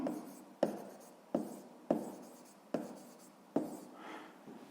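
Pen strokes scratch across paper while the next step of a sixth-grade equation is written down, roughly six distinct close strokes at an even pace, alone without speech.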